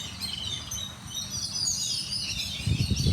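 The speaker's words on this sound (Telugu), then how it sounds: "పక్షులు అరుస్తాయంటే ఇక్కడ కూడా అరుస్తున్నాయి" Birds chirp in a steady chorus of high tweets and calls outdoors, moderately loud throughout, with a low rumble building toward the end.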